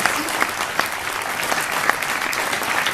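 A small audience claps steadily for a jury president at an event, dense clapping that stays even throughout without voices rising above it.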